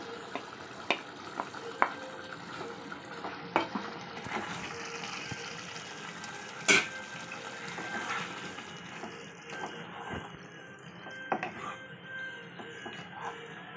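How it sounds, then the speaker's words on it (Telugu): Raw prawns cook quietly in a pan with a soft, steady sizzle, broken by occasional clicks and taps of a spoon against the pan. "ఇప్పుడు రొయ్యలు వేసేసుకున్నాము, పచ్చి రొయ్యలు."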